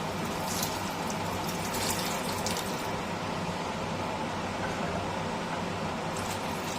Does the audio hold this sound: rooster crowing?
no